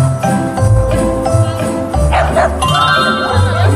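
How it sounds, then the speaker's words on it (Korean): Welsh corgi puppies bark and yip in short bursts close by, with brief whimpers between, during a first day home with three corgis. "강아지 있구나."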